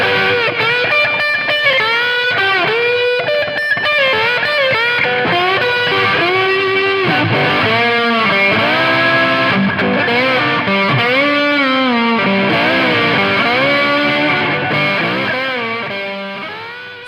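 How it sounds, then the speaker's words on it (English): Heavily distorted electric guitar through a Pigtone English Man Distortion pedal on the neck pickup plays a continuous run of riffs and bent notes, loud and saturated, fading out at the end. "That's the Pigtone English Man Distortion pedal."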